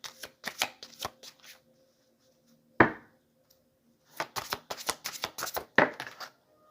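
Tarot and oracle cards shuffled and pulled, two bursts of rapid papery flicks and riffles separated by near-silence and a single sharp card snap, close and crisp.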